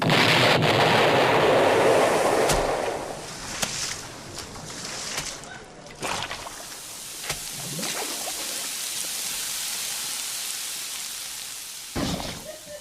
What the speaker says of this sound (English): Those explosions were slightly larger than we had calculated, Jit.